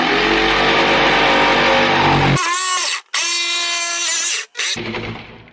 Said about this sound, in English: Actually pretty easy to do with a jigsaw.